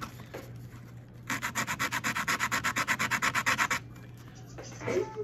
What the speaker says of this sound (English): I take my sandpaper.